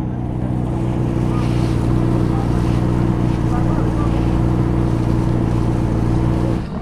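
Steady motorboat engine drone at sea with wind and water noise, loud and constant throughout without a break, no voices present.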